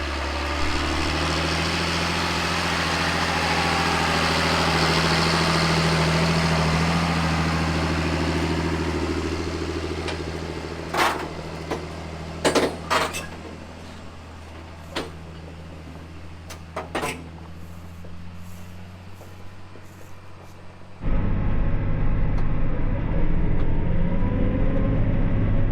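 A farm tractor hauling two wagons loaded with soybeans, just over 100,000 pounds total, during harvest; its engine gives a steady, close low drone with a few sharp clicks and rattles, then swells louder near the end.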